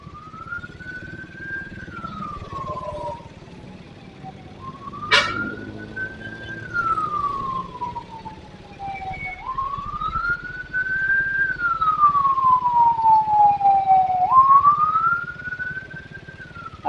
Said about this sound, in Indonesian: Ada ambulan, teman-teman.